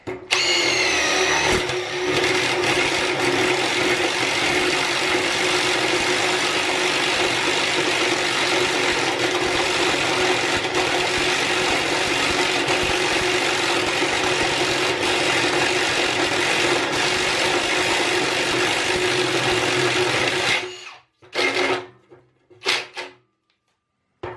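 An impact driver drills nonstop for about twenty seconds with a harsh, rattling whir, then cuts out abruptly, leaving a few brief clatters.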